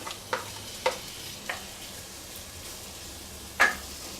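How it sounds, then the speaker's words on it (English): Onion sizzling in a pan for a rice pilaf, a low steady hiss under four sharp scraping clicks of stirring, spaced irregularly and close by. "Okay, I'm going to add my onion."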